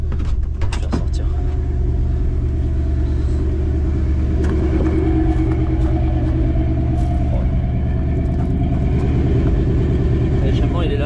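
An old car engine runs steadily at idle with a deep, loud exhaust rumble heard up close. Occasional clicks sound and voices murmur faintly in the background.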